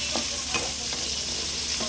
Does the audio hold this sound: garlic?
yes